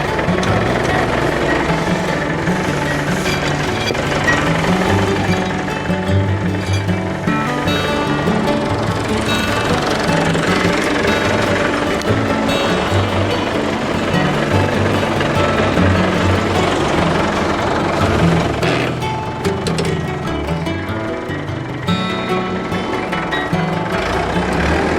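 A tractor engine with plows attached runs continuously while tilling garden soil, a loud, rough, rattling drone close by that never stops, with no talk.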